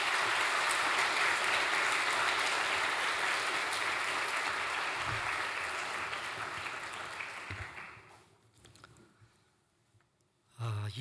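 Warm applause from a church youth-service congregation welcoming a pastor, steady and sustained for about eight seconds before tapering off, with a brief thump near the end.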